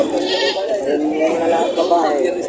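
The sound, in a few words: goats bleating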